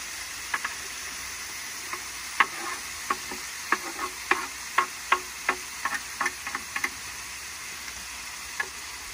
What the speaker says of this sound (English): We'll just get all this meat browned up good with the onions